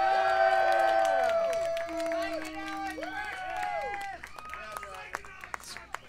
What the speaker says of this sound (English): So let's give one more big round of applause